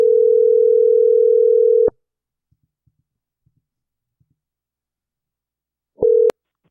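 A telephone call: a long steady electronic tone stops, then after a few seconds of near silence with faint clicks a short burst of the same tone sounds briefly before cutting off.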